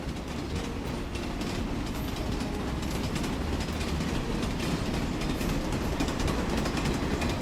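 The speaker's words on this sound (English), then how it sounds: "It sounds like a train." A train rumbles past close by, a dense, loud roar of wheels and rails that stays steady throughout with no voices.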